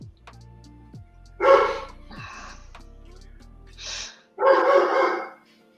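A dog barks in a few short, sharp bursts, two close together, then a pause and two more, heard fairly near over a low steady hum indoors.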